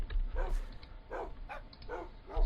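A dog on a humane pig farm barks about five times in a steady, evenly spaced rhythm, each bark fairly short and at moderate distance over a low rumbling background.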